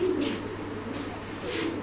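A Spanish pigeon coos in low, throaty phrases, about three soft rolling calls close by, with no talking.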